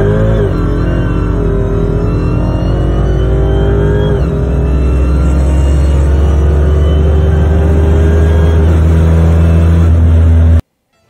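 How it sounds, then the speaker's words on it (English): A 900-horsepower Dodge Hellcat pulls hard from 60 to 160 mph, a loud continuous engine roar climbing steadily in pitch for about ten seconds with brief shift dips, then cutting off abruptly. "this next clip I'm gonna show you guys is actually a 900 horsepower Dodge Hellcat doing 60 to 160."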